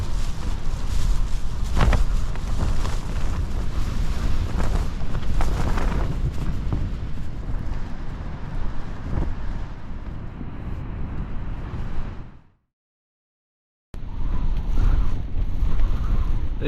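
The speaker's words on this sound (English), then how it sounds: "This wind's been pretty unforgiving." Strong gusting wind from Storm Debi buffets and rattles a tent at a wild camp, a steady loud roar with surges, then cuts to silence for a moment before resuming.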